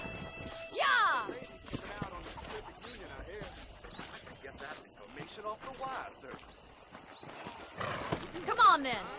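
Horse whinnies ring out in the Red Dead Redemption game, one near the start and another near the end, with game dialogue and scattered hoof sounds running between them.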